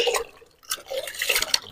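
Water poured and splashed while rinsing arms, in brief irregular bursts with a short quiet gap between them.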